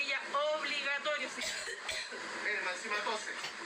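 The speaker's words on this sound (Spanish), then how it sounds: "esta mujer tose con fuerza frente a los pasajeros que le increpan por no utilizar mascarilla" A woman coughs forcefully several times on a public bus, with harsh, closely spaced bursts mixed into the talk of nearby passengers.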